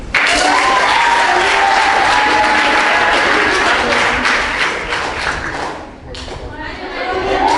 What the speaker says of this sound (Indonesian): Ini tepuk tangannya.